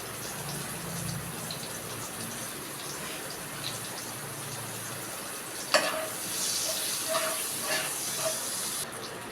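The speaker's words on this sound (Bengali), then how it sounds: "একটু পেঁয়াজ ফোড়ন দিয়ে দিচ্ছি" Chopped onion tempering in hot oil for a Bengali prawn and banana flower dish, a steady loud sizzle and hiss throughout with a brief sharp burst near the middle as more goes into the pan.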